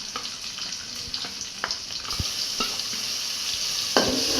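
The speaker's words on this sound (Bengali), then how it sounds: "এখন দিয়ে দিবে মশলা মরিচ গুঁড়া হলুদ গুঁড়া ধনে গুঁড়া এসব দিয়ে দিবে এখন" Chili, turmeric and coriander powders fry in hot oil in a pan for a tilapia curry, a steady close sizzle with a few sharp spoon-and-pan knocks scattered through it.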